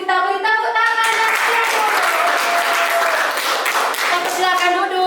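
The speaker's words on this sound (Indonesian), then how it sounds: "untuk kelompok 1 kita beri tepuk tangan" A classroom of students claps steadily and fairly loudly for about five seconds for a presenting group, with a teacher's voice talking over the applause.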